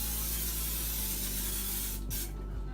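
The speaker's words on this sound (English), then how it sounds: "You spray the pan spray all over the pan." Non-stick cooking spray hisses from an aerosol can onto a cake pan in a steady, close, loud burst that cuts off near the end, followed by a brief second spritz.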